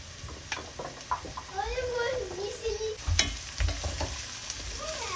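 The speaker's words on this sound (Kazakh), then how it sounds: "Әрмен қарай сәбізбенен редькамызды саламыз да жақсылап қуырамыз." Meat, onion, carrots and radish fry in a pan with a steady close sizzle, punctuated by a few louder stirring scrapes, while a person talks over it.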